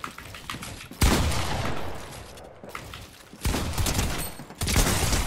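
SMG fire in Fortnite comes in rapid bursts, loud and close, with a short lull in the middle before the firing resumes hard.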